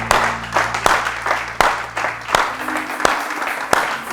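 A church congregation applauds and cheers in praise, with dense rhythmic clapping and several sharp, regular beats heard over a sustained organ or keyboard chord, close and fairly loud.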